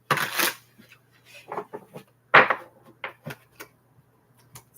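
Several brisk bursts of tarot card shuffling, riffling and tapping at close range, separated by short quiet gaps, with a steady low hum underneath.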